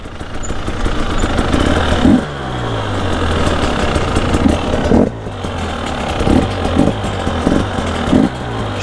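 A Husqvarna 300 enduro motorcycle idles up close with a steady, loose two-stroke burble, broken by several short blips and puffs of the throttle, on its own with no talk.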